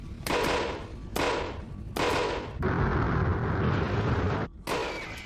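Explosion sound effects in a science show about volcanoes: a run of loud, booming blasts with rumbling tails, several sharp hits followed by a longer roaring burst and one final bang.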